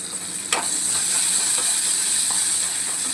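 Chopped onion and tomato cooking in a pan for samak rice khichdi, a steady close sizzle and hiss with a faint clink of a utensil near the start.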